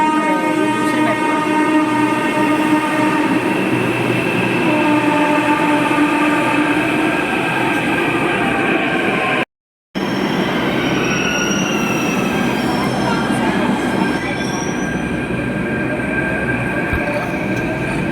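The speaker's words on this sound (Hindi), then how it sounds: "तो हमारी मेट्रो आ रही है, दूसरी मेट्रो।" A metro train pulls into the station, loud and close, with a steady rolling roar and high squealing wheels that shift in pitch as it slows, continuous for the whole stretch.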